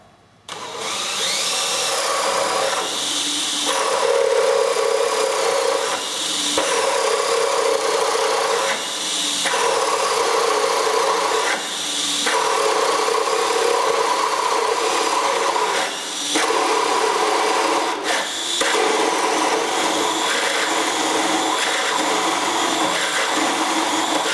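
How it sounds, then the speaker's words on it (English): A mortise tool fitted with a paddle bit bores a 3-inch-deep pocket into wood for a mortise lock. It makes a loud, steady grinding whine that drops out briefly about every three seconds, with no talking. "in this application, we're using the mortise tool"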